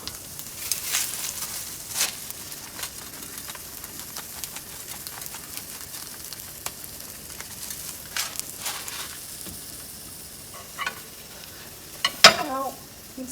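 Macaron filling fries in a pan, a soft steady sizzle with scattered clicks and scrapes as the pieces are flipped, one sharper clatter near the end.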